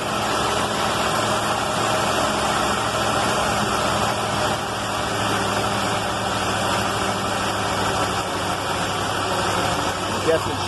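A car engine holds a steady high idle after being restarted following an electrical fire. A constant, even running drone is heard close by throughout.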